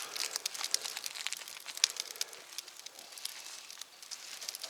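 A first-aid bandage wrapper crinkles and crumples in hand at a campsite, soft irregular crackling bursts close by, fairly quiet, with no talking.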